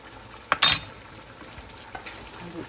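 Ginataang gulay of vegetables, shrimp and pork stirred in a pan, giving a brief scraping stir and a short sizzling burst early on, then a faint simmer with a few soft clinks.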